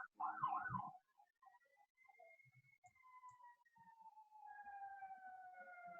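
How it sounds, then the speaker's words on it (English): Emergency vehicle sirens pass outside a house, heard faint and distant as a thin wailing tone that rises and falls, after a brief muffled bit of voice at the start. "the sirens are going past my house, which you can probably hear"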